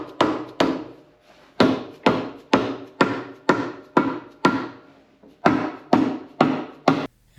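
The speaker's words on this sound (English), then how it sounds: "once you get it on the dowel pins, you just tap it in" A John Deere B tractor transmission cover being tapped down onto its dowel pins: about fifteen evenly paced, sharp, loud knocks in a steady rhythm, each ringing briefly, with a short pause partway through.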